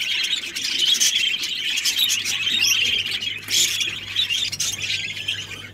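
Rainbow budgerigar chicks in an opened nest chirp and squawk in bursts of high, busy cheeping, close and fairly faint, with a low steady hum underneath.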